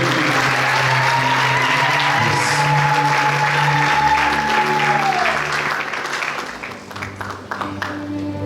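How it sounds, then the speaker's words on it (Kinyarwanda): Church congregation applauding loudly and steadily, dense clapping filling the space before tapering off, with voices under it and a sustained tone fading out midway. "Reka twongere tugukomere amashyi ya Paul Kevin."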